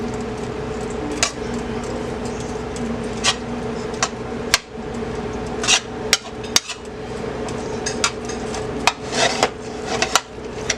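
Ground beef stirred in a pan over low heat while preparing enchilada filling, with a steady low cooking hiss and irregular scraping clicks and taps of a utensil against the pan, close and fairly loud, no talking.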